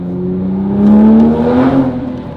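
An MK5 Supra with an AWE Resonated Touring exhaust is revved close up, a loud, smooth engine drone rising and then falling back in pitch with no voices over it.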